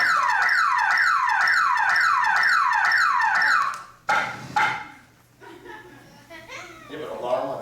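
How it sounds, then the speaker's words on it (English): Alarm fitted to a curtain goes off with a loud, close electronic whooping siren, rising sweeps repeating for about four seconds before cutting out abruptly, followed by a few thumps and people talking. "You have an alarm on the curtain?"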